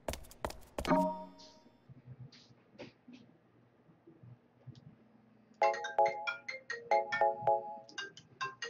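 A phone ringtone from a call plays as a loud, repeating electronic melody of bright tones, starting about halfway through after a sharp thud and a quiet stretch.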